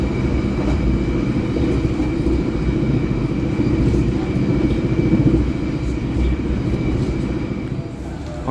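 The Harina passenger train in Indonesia rumbles along steadily near Lamongan station, with a constant low roar of wheels and carriage noise throughout.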